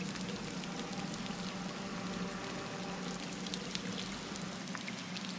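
Water drips and flows through a dark cave in the game Scanner Sombre, a steady close wash of patter and trickle with scattered bright drip ticks, continuous with no speech.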